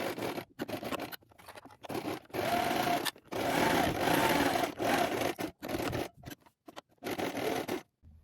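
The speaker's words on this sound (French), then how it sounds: "vous allez coudre à 1 cm ici et tout le long de la ceinture" A sewing machine stitching along a fabric waistband for shorts, close bursts of rapid whirring stitching separated by short pauses, with no talk.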